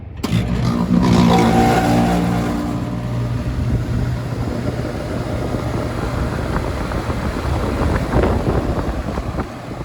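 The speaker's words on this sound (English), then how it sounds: "Pretty loud compressor start up there" A central air conditioner's outdoor condenser compressor kicks on loudly with a low, rumbling hum and a brief rising tone, then settles into a steady, roaring drone mixed with fan and airflow noise.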